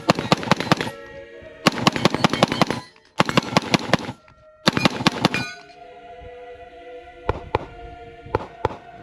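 Rapid bursts of gunfire from a Radical AR-15 rifle chambered in 7.62x39, several loud close strings of quick shots with brief gaps, then a few single shots with ringing metallic clangs.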